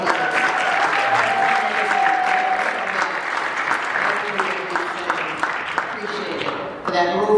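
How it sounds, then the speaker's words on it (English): Audience at a Sikh Heritage Month and Vaisakhi event breaks into sustained applause, a steady wash of many hands clapping that holds loudly before tapering near the end, with a voice heard over it. "Another round of applause, please."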